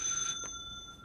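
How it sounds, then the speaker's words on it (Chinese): Telephone ringing indoors, a quiet electronic tone holding steady with a couple of brief soft knocks, short and fairly close. "你思念的电话来啊，紧接吧"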